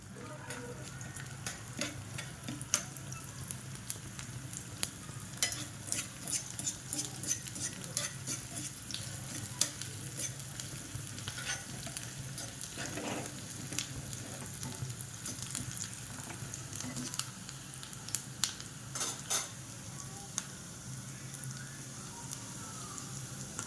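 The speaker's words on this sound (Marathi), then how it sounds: "आपली मिरची चांगली कडक तळून झाली आहे" Green chilies fry crisp in hot oil for a sweet potato chivda, giving a steady soft sizzle with scattered crackles and occasional stirring clinks, close and moderately quiet, with no talking.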